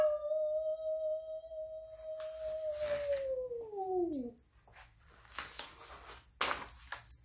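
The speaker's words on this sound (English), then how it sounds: "Big Bad Wolf burned his bottom very badly and ran howling down the road" A wolf howl from a children's telling of The Three Little Pigs: one long, sustained howl that slides downward in pitch and breaks off, followed by scattered rustling and bumping noises.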